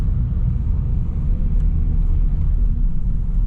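A car driving along a street in December, heard from inside as a steady low engine and road rumble with no breaks.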